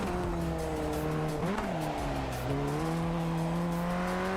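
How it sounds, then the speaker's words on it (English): In iRacing, a race car's engine drones steadily with shifting pitch as it brakes hard through a corner and the tires give a faint scrub, loud and continuous inside the cockpit. "I hit the brakes way too much over there."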